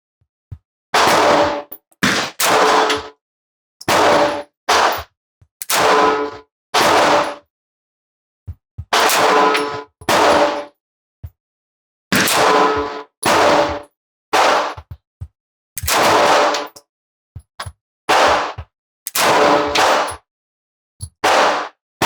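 A 9mm CZ P-09c or Sig P365 XL pistol with a Holosun optic fires at a range, the first shot in double action. Loud, close, sharp reports come singly and in quick pairs and strings, with short quiet gaps between groups.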